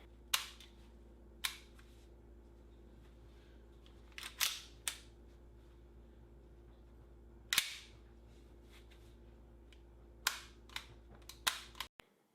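A Tokyo Marui Samurai Edge gas blowback airsoft pistol clicks crisply through a function check, sharp close mechanical snaps of slide, hammer and controls, spaced irregularly with a few quick clusters near the end, over faint room hum.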